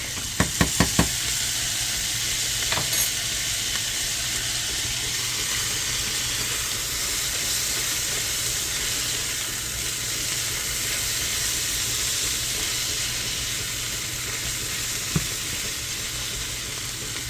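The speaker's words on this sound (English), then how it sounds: "And continue frying that up." Steady, loud sizzling of garlic frying in a hot pan, continuous throughout with a few clinks of a utensil near the start.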